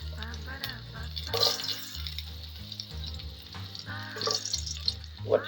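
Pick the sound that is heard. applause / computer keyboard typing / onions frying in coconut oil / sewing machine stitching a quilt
onions frying in coconut oil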